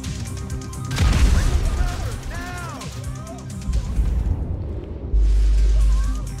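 Frag grenade explosion in GTA 5 story mode, a heavy boom followed by rumbling debris amid game dialogue and shouting, with another low blast near the end.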